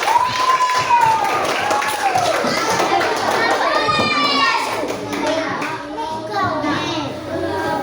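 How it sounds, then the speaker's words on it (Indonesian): Schoolchildren in an Indonesian classroom break into lively clapping for themselves, with excited kid voices chattering and calling over the rhythmic claps throughout. "Tepuk tangan untuk dirinya sendiri."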